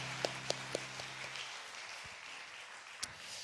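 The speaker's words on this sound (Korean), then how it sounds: "우리 하나님께 영광의 박수 돌리겠습니다." A congregation at a Friday late-night church prayer meeting claps. A few sharp, distinct claps and a low hum come first, then the broad clapping thins out and fades toward the end.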